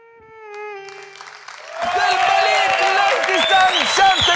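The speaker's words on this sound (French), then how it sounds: "On applaudit, un tonnerre d'applaudissements" An audience at a live comedy show bursts into loud, sustained applause with cheers and whoops that swell after a quieter opening tone, filling the rest of the moment.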